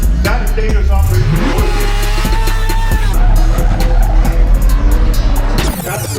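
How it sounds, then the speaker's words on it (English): A lifted 2020 Ford Raptor truck with 700 horsepower does a burnout, engine roaring at high revs as tires squeal in long rising and falling tones, loud and close, with a few voices underneath. "What's 700 horsepower look like doing a burnout?"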